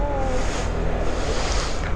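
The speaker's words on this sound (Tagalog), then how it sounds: "Ang lakas ng alon talaga dito sa Aurora." Strong ocean waves on the coast of Aurora, along a coastal road near a tidal pool in Casiguran, form a loud continuous rushing roar with heavy wind buffeting the microphone.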